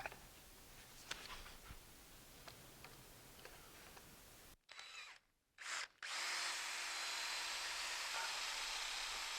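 A power drill bores into a wooden post: light ticking and background noise, a brief pause, then the drill motor whines steadily and loudly to the end.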